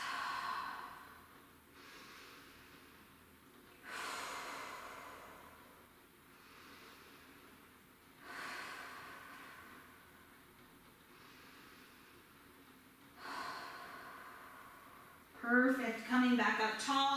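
Slow, deep breaths taken while holding a pigeon hip stretch: about four long, soft exhales spaced roughly four seconds apart, close to the mic, followed by a brief voice at the end.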